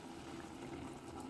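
Blended tomatoes pour into a pot of okra soup, giving a soft, steady liquid splashing and gushing close by with no talk.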